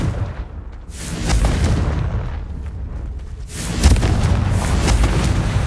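Confringo spell explosions go off in Hogwarts Legacy, two heavy booming blasts followed by rolling rumble that fills the whole stretch at close range.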